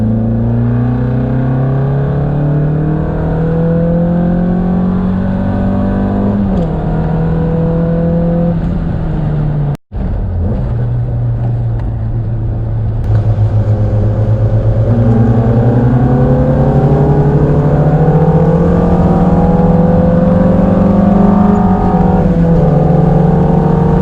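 A car with a Volkswagen ABA engine in stock form accelerates hard down a quarter-mile drag strip, its loud engine note climbing steadily through the gears, with a short break for a shift partway through, then pulling onward without pause.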